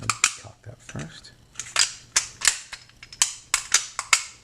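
Sharp metallic clicks and snaps from a West German SIG P226 pistol being cocked and worked, a close, irregular series of crisp mechanical clacks with no voices.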